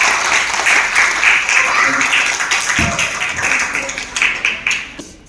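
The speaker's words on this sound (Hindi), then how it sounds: "एक बार जोरदार ताली हो जाए हमारे अच्छी प्रोडक्ट" Sustained audience applause at a Team Youth meeting in Ballabgarh, a dense crowd of many hands clapping steadily for about five seconds, loud and close, with a few voices mixed in before it thins out at the end.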